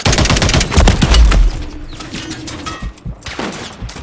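Gunfire is aimed at the player in the Call of Duty video game, with a loud rapid burst of automatic shots up front, then scattered quieter shots and bursts trailing off behind.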